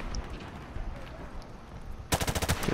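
Gunfire in Modern Warfare Remastered, a burst of rapid automatic shots arriving near the end, loud and close after a stretch of quieter game ambience.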